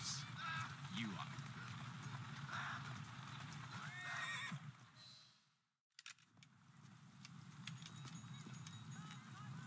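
A horse in the Assassin's Creed Syndicate video game whinnies and clip-clops on the street, hooves ticking steadily under a busy ambient city mix, with a short drop to near silence partway through.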